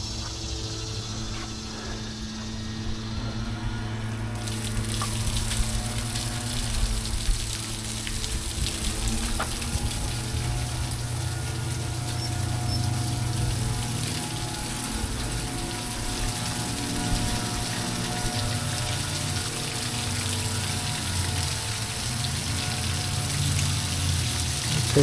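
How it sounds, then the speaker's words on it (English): Water gushes steadily from an outdoor spigot, turned on as part of a basement flooding fix, a continuous close hiss and splash that holds without a break from start to finish. "Let's turn on my spigot. See how much water comes out of there."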